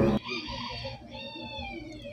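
A rooster crows and clucks nearby in a drawn-out, wavering call of steady loudness, with no voices over it.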